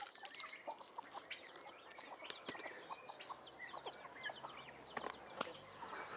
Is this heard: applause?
no